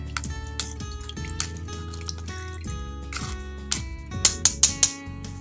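Blended fruit juice pressed through a kitchen strainer gives soft dripping, squishing and trickling sounds, growing into a quick run of louder wet drips at the end, all over steady background music.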